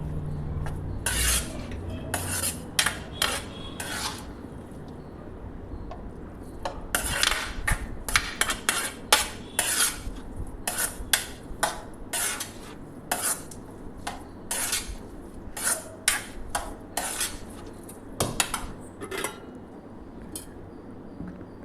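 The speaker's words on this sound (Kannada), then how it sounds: "ಅದನ್ನು ಚೆನ್ನಾಗಿ ಮಿಕ್ಸಿಂಗ್ ಮಾಡ್ಕೋಬೇಕು" A metal spoon stirring curd rice in a steel bowl, with repeated clinks and scrapes against the dish in irregular bursts, close and fairly crisp, over a quiet background with no talking.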